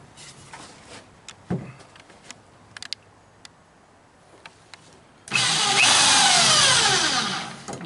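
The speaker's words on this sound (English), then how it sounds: "we're going to be pre-drilling for our washer" A power drill pre-drills a hole in a wooden porch swing arm to seat a washer. After a few light knocks and taps, the drill starts with a loud, steady whine that sweeps in pitch as the bit bites into the wood.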